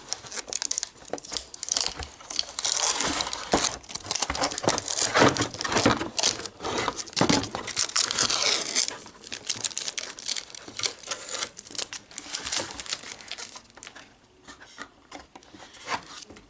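Protective plastic film being peeled off an RTX 5050 graphics card with no backplate, a close, sustained crinkling and tearing rasp that is loudest for the first nine seconds, then turns patchier and softer.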